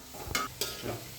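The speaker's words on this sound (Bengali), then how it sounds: "আদা রসুনের বাটাটা একসঙ্গে বেটে নিয়েছি, দিয়ে দিলাম। এবার নাড়াচাড়া করব।" A spoon stirs ginger-garlic paste frying in a pan, with two quick scraping strokes over a soft, steady sizzle, close and fairly quiet.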